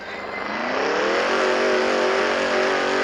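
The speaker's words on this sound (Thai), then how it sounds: "ขอเบิดเครื่องแล้วกัน" A car engine revs up in the Drag Racing Streets video game, a loud, close, steadily rising roar that climbs in pitch over a few seconds with no talk.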